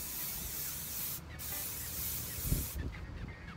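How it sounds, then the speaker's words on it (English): Up close, an aerosol hisses a light coat of protector onto a leather bag in two steady sprays with a brief pause between them, and nobody speaks. "I just spray a very light coat, and I turn it to the side."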